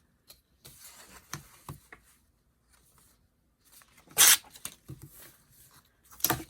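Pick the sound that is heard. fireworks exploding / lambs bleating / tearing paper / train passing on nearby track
tearing paper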